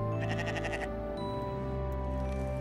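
Sheep bleat in a few drawn-out, wavering calls, close and clear over a steady background hum, with no one talking.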